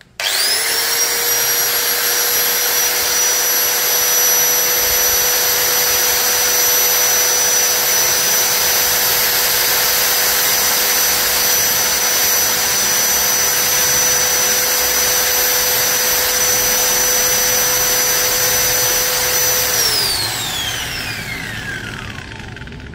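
A Makita M0900B angle grinder whines at a high, steady pitch for about twenty seconds, then winds down as the motor spins to a stop. Loud and close.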